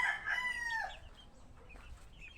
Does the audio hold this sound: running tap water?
no